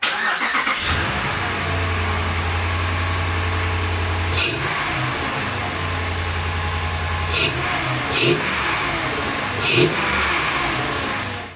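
A 2009-2023 Dodge Ram 1500 pickup's 5.7 HEMI V8 with a K&N cold air intake idles with a steady low rumble, then revs hard several times in short bursts, loud and close, with no talking.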